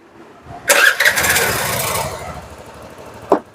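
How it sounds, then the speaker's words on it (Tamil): A Suzuki Access 125 scooter engine cranks and catches with a loud burst, then settles into a steady, softer idle, followed by a short click near the end. "இப்போ வந்து ஐலிங் கரெக்டாக ஓடுது."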